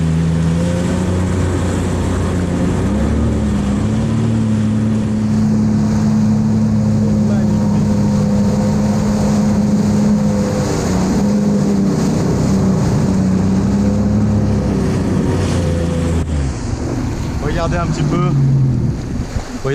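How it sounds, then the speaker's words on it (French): A jet ski ride on the sea in the Maldives gives a loud, continuous engine drone with shifting pitch, mixed with heavy wind buffeting and splashing water. "Un tour en jet ski ici."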